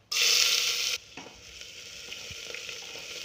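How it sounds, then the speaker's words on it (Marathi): Onion dropped into hot oil with whole spices in a pressure cooker for a spicy mutton curry gives a loud sudden sizzle for about a second, then a quieter crackle with light stirring clinks. "कांदा आपण छान परतून घेऊ।"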